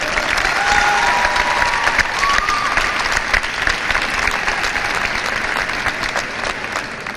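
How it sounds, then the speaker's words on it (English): Graduating high school seniors at a commencement ceremony applaud their families, a broad, sustained roar of clapping from a large crowd in a big space, steady throughout with a few faint tonal sounds early on. "I ask you to offer your families a round of applause for bringing you to today."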